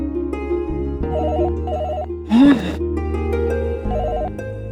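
A telephone rings in a repeating electronic pattern, steady and fairly loud, broken briefly by a short louder voice-like sound in the middle.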